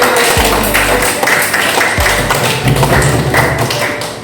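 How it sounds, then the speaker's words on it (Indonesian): Classroom applause from students, heard as dense, loud clapping throughout with a few heavy thuds mixed in. "Tepuk tangan sekali lagi"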